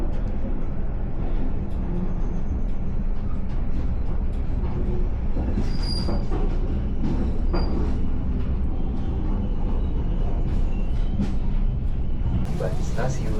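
Executive-class passenger train KA Pangandaran running toward Banjar, a constant loud roar of wheels on rails with rhythmic clatter and brief squeals, heard from inside the carriage throughout.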